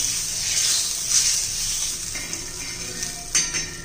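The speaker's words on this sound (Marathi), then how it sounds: "मी तळून नाही घेणार, मी फक्त तेल टाकून परतून घेणार आहे." Spinach, colocasia leaf and coriander vadi shallow-fry in oil on a flat pan, a steady soft sizzling hiss with a few faint utensil clinks near the end.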